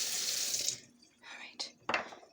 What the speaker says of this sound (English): Now, I'm going to rinse this really quick